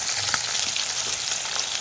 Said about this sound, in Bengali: আর মাছ ভাজা চলছে